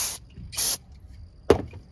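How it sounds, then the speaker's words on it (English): Brake cleaner sprays onto a folded towel during a thermostat job on a 2006 Chevy Silverado 1500 WT 4.3, heard as a few short, close hissing aerosol bursts separated by brief pauses. "Spray the brake clean on the towel."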